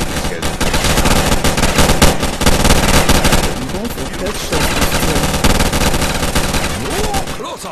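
Rapid, continuous ray gun fire from Call of Duty Zombies in VR, a loud dense stream of zapping shots with game effects and brief player voices mixed in.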